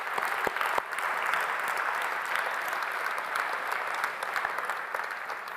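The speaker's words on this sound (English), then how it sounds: "Round of applause for everybody." An audience at a European Social Economy Awards gala applauds steadily, a dense, even wash of clapping that carries on without a break at a moderate, roomy level.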